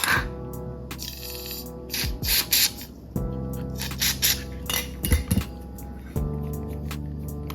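Short hissing bursts of cleaner sprayed onto a dirty, stiff RC Warn 8274 scale winch, repeated several times over a steady low hum, with light metallic clinks in between and no talk.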